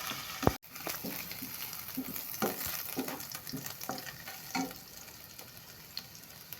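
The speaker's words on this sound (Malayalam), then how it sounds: "ഉള്ളിയും പച്ചമുളകും ഇടുന്നുണ്ട് നല്ല ഭാങ്ങിൽ പൊരിഞ്ഞ് വന്നിട്ടുണ്ട്" Onions and green chilies sizzle in a hot pan for vegetable biryani, a steady close frying hiss with scattered spatula scrapes and a sharp clack near the start.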